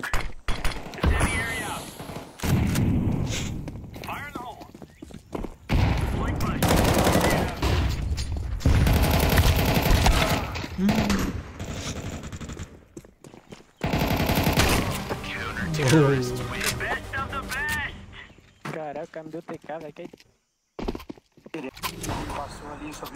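Gunfire from Counter-Strike on the Ancient map comes in bursts of rifle and machine-gun shots, heavy at first, then scattered pops and footsteps, with players talking over the action.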